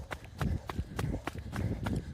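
Footsteps of obstacle race competitors at a Spartan sprint race on Blue Mountain, Canada, near the Herc hoist obstacle, quickening into a run, several brisk thuds over outdoor crowd noise and faint voices.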